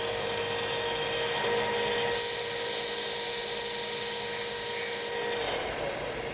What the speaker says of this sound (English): I'm going to sand this last piece off right down to the lines on a little vertical